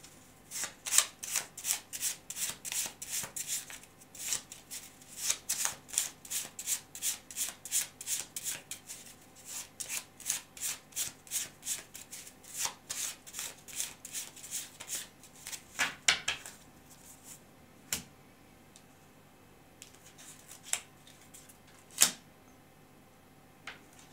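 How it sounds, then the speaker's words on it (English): A Feelings and Messages tarot deck is shuffled by hand, a rapid run of crisp riffling card snaps repeating close and steady, slowing into a few separate card slides and taps as cards are drawn. "now I'm going to take some cards from this Feelings and Messages deck"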